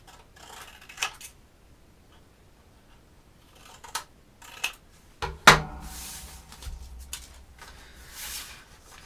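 Scissors cut paper along a pencil line for a handmade Valentine's accordion book. A few sharp, close snips are scattered across quiet stretches, with one louder crunch near the middle followed by brief rustling.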